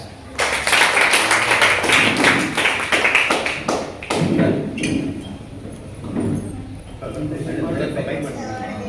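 A crowd claps for a gold medal winner at a school's 100-day self-defence training camp. Sharp, rapid claps build into steady applause for about four seconds, then trail off into a few isolated claps as people talk.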